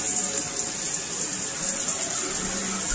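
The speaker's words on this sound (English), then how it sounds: "we got us a shower. Got us a working shower." Water runs steadily from a newly installed IKEA bathroom shower, a constant close hiss of spray with no breaks.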